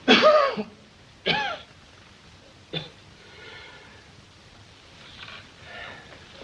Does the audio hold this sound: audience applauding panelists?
no